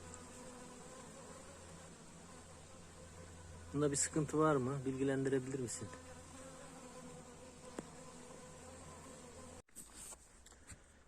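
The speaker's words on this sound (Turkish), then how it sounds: "Bak hep erkek arılar geliyor." Insects buzz steadily at low level in a garden, with a louder, wavering buzz of male bees rising nearby for a couple of seconds; someone speaks briefly over it.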